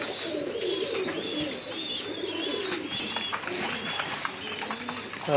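Pigeons eager for grit keep up steady, overlapping throaty cooing close by, with light chirps and a brief scuffle of movement near the end.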